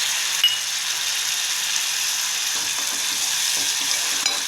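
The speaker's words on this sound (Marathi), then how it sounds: "कांदा तळून झाल्यावर टोमॅटो मस्त पेस्ट टाकून घ्यायची" Tomato paste sizzling in a pan of fried onions, a loud, continuous close-up frying hiss with no speech.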